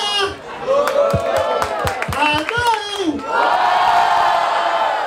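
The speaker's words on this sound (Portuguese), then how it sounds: "barulho para as rimas do Ica!" A large crowd at a hip hop rap battle cheers and shouts loudly to vote, with a short dip in the middle before the roar swells again to a sustained din.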